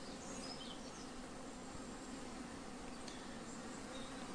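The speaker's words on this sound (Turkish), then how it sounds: "Arı bunu dışarı atmak için kovanın tahtasında kanat çırpar ve aşırı bir uğultu yapar" A steady, faint buzzing hum of many bees fanning their wings, continuous and even without pauses.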